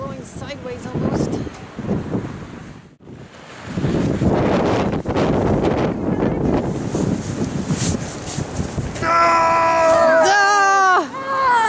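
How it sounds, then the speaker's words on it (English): Blizzard wind roars and buffets the microphone without letup while people talk over it, and a brief whistling tone rises near the end. "The wind is blowing sideways almost."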